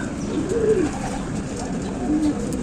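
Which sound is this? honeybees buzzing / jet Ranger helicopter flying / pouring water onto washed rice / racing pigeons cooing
racing pigeons cooing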